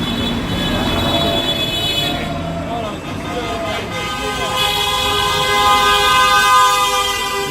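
Car horns honk continuously in busy street traffic, several sustained tones overlapping and growing louder toward the end, with voices under the din.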